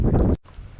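Gusty wind at a lakeside catfishing spot buffets the microphone in a loud, rough burst, then cuts off suddenly, leaving a softer, steadier wind rush.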